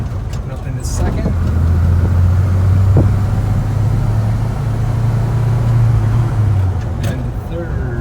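A 1971 Chevrolet C10 short bed pickup engine pulls steadily from inside the cab, its low drone rising as it accelerates through first and into second gear, loud and continuous throughout.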